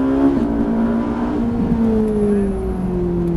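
A Ferrari F458 on the Le Luc race track pulls hard under acceleration, its loud, steady engine drone holding close and continuous throughout with a gradually shifting pitch.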